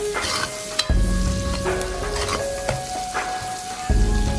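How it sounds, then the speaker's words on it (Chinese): Winter bamboo shoots being stir-fried in a wok with garlic and chili, a steady oily sizzle with scraping stirs, plus a low tonal hum that breaks off and returns near the end; close and fairly loud, no talking. "将冬笋炒至5成熟的时候，再把大蒜和小米辣倒入锅中，再快速的翻炒，将它们炒香"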